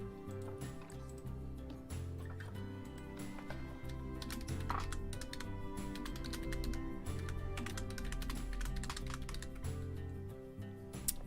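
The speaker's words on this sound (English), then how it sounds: "Sometimes when I'm typing, my hands just have a mind of their own." Rapid typing on a computer keyboard, a dense stream of close, light key clicks running continuously with small bursts and pauses.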